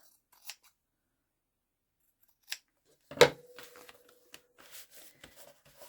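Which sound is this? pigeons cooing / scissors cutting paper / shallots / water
scissors cutting paper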